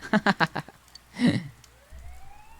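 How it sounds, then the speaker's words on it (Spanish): In a video game, a few quick clipped vocal blips are followed by a louder burst, then a faint siren rises in pitch in the distance, wailing on to the end. "Oye, sirenas cerca."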